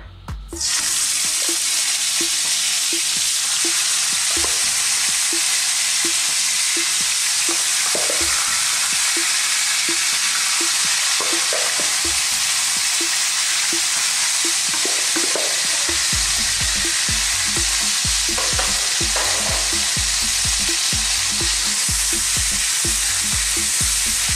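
Sticky pork ribs fry in a large amount of hot oil while being stirred, giving a loud, continuous, hissing sizzle close by, with occasional scrapes and shifts as the pieces are moved.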